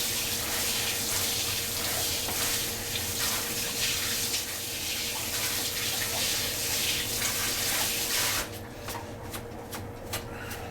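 Tap water pours in a loud, steady rush as foraged pine needles are rinsed under it, with some rubbing and shuffling mixed in. The flow cuts off near the end, and a few soft knocks follow.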